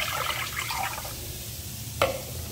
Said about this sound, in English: I'm going to add 900 ml of water,